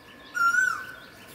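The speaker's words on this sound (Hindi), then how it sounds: "कोयल की आवाज़ आप तक आ रही है" A single Asian koel calls once from a terrace garden, a short clear rising note moderately near over faint background hiss.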